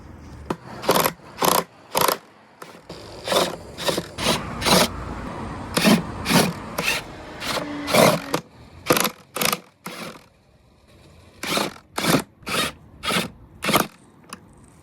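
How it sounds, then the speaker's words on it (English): A hand tool backs out T25 Torx screws around the base of a SEAT Ibiza 1.0L airbox, making a quick series of sharp ratcheting clicks up close. The clicks come in irregular rhythm with brief gaps. "we're going to undo the T25 screws"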